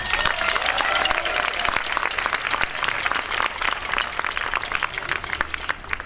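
Applause fills a school band concert hall after a piece, many hands clapping in a sharp, crackling, sustained burst that holds steady throughout, with faint crowd murmur underneath.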